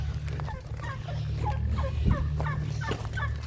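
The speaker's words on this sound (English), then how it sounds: "Gobble gobble." Turkeys gobble in quick, warbling bursts, several calls in a row over a steady low hum.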